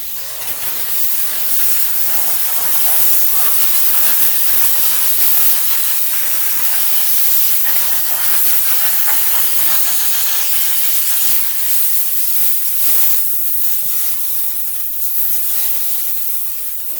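Loud, continuous hissing spray of a 125 PSI steam cleaner on a dirty wheel, steady and close, with slight surges in intensity and no voices.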